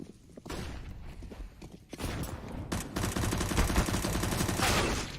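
Gunfire from a professional Counter-Strike match on the Mirage map, with Desert Eagle pistol shots mixed into dense, overlapping rounds of fire and footsteps in the game audio, heard fairly quietly.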